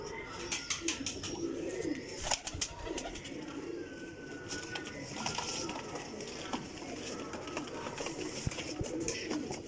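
Flying pigeons coo softly and repeatedly nearby, with scattered clicks and rustling around them; a voice talks faintly in the background.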